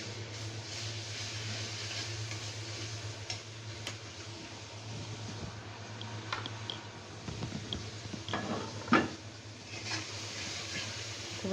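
Garlic ginger paste fries in ghee in a pan, making a continuous low sizzle with scattered small crackles and pops over a steady background hum.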